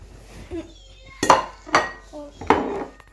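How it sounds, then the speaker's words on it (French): A pizza cutter rolls across pizza on a plate or tray, giving three or four distinct metallic scraping and clinking strokes, close and fairly loud, with faint voice sounds between them. "c'est pratique, hein, pour couper les pizzas"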